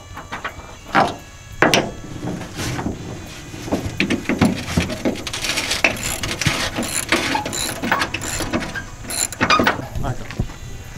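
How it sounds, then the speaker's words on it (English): Ratchets click in quick bursts and metal tools clink while bolts come out of a 2004 Ford F250 Super Duty during bed removal. The sound is near and irregular, with short pauses and faint background noise. "we're removing them with hand tools so that we make sure and don't strip anything out"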